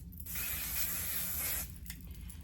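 A single sustained hiss of Kenra hairspray sprayed onto freshly washed, styled hair lasts about a second and a half, close and fairly soft over a low background hum.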